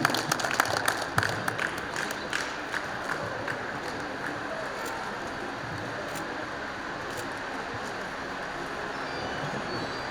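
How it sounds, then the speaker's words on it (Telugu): An audience claps continuously and steadily at a syndicate get-together where gifts are presented on stage; a few sharper claps stand out at the start before the applause settles into a dense, even wash. "సరే గట్టిగా చప్పట్లు కొట్టాలి."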